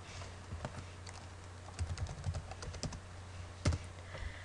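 Fingers tap out login details on a computer keyboard in quiet bursts of soft, close clicks, with irregular pauses and one sharper keystroke near the end.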